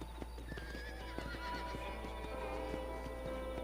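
Horse ridden in Red Dead Redemption 2, a whinny over a steady run of clip-clop hoofbeats, fairly close and clear against a low background hum.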